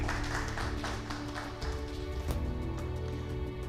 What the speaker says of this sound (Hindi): तालियां तो बनती है